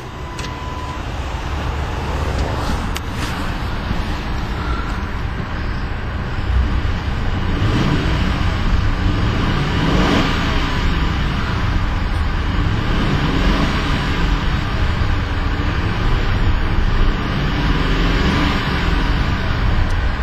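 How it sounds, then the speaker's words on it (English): A 2010 Lincoln Town Car Signature L engine runs loud and close with a steady broadband roar that swells as it is revved, and no talking is heard over it. "We'll go ahead and rev the engine a couple times just to see how the engine sounds."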